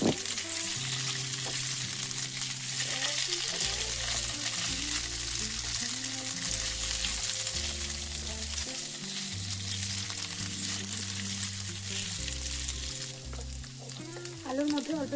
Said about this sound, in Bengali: আলুটাকে বেশ কিছুক্ষণ একটু লালচে লালচে করে ভেজে নেব